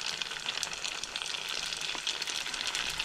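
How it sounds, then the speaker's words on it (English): Egg rolls frying in hot oil at 350 to 375 degrees, a steady close crackling sizzle with dense popping bubbles throughout, no voices. "you put it in your oil, which is between 350 and 375, and fry them till they're golden brown"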